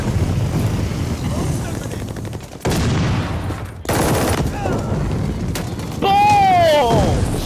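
Video game gunfire in a team deathmatch match, a rattling barrage broken into several bursts, with wind noise, whooshing projectiles and a voice talking over it.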